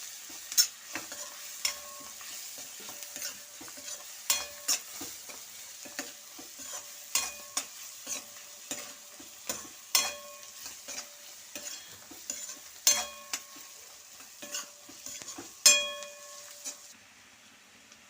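Brinjal (eggplant) fries in a pan with onions and salt: a soft, steady sizzle broken by sharp scrapes and clicks of stirring every second or two, close by with no talk.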